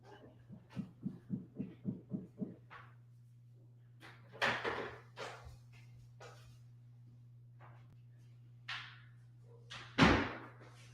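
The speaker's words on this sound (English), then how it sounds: "I'm just going to shut my doors." Indoor doors shut one after another, giving a run of soft even knocks and then scattered thuds and clicks, ending with one firm shut, all over a steady low electrical hum.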